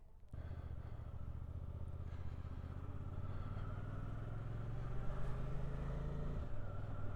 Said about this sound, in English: Okay, here we go, the brand new Suzuki, the GSX 800R.